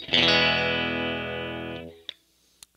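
A Fender Stratocaster plays a clean chord through a Fender Twin Reverb amp. The chord is struck once, loud and close, and rings steadily for nearly two seconds before it is cut off. A couple of short clicks follow in the quiet.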